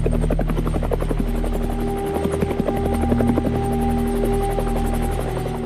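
A MINUSCA attack helicopter on a UN mission in the Central African Republic, its rotor beating in a steady loud chop with engine whine, close and continuous, no talk.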